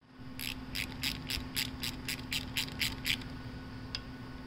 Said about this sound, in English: Okay, I've taken all the bolts out.